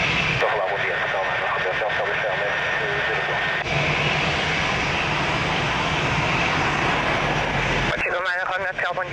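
A jet airplane takes off from runway 02 at Lisbon Airport, a loud continuous engine roar under air traffic control radio chatter, with voices speaking over it most of the time.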